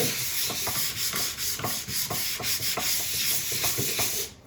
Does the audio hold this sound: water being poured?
no